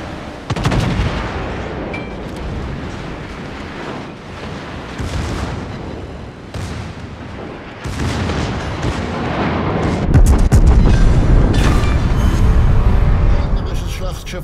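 Japanese battleship Shikishima in World of Warships firing heavy naval cannons, repeated deep booming salvos and rumbling blasts over about fourteen seconds, loud and close, with louder overlapping shots near the end.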